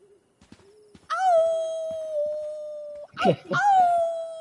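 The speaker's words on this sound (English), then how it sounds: "I hear a wolf." Wolf howling in Life is Strange 2, a long sustained tonal howl that rises and holds, then a second howl after a brief rough break, fairly loud and clear with faint sounds before it.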